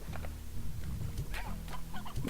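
Hens cluck in a ranch setting in the video game Slime Rancher, giving short repeated clucks and bursts of chatter over a steady low background hum.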